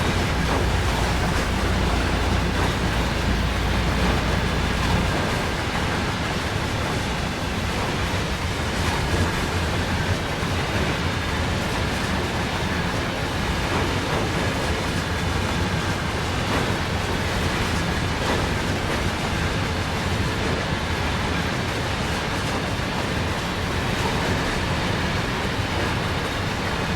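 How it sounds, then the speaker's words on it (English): A long freight train rolls uphill out of Cheyenne in Train Sim World 4, giving a steady, dense rumble of wagons and engine noise that lasts throughout with no talking over it. "Man, it is a long train."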